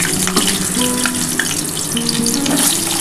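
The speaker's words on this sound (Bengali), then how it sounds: "এই যে তেল বসিয়েছি দেখো গরম তেল, এই তেলের মধ্যে আমি কিন্তু আলুগুলো একটু ভেজে নেবো হালকা করে" Potatoes fry in hot mustard oil, a loud, dense crackling sizzle that runs continuously at close range, with a few faint tonal clinks of cookware in the background.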